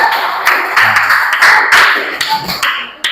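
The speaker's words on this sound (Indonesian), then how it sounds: "Tepuk tangan buat Hendy." Classmates clap and cheer for a student in a primary classroom, a dense burst of many hands sustained for a few seconds at close range.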